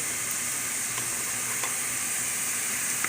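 Slices of garlic and skin-on ginger sizzle steadily in a pan as soup is started, a constant close hiss with faint occasional ticks.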